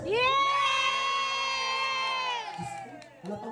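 An audience at a live hosted show lets out a loud, sustained cheer, a bright ringing shout held for a couple of seconds before breaking into scattered voices.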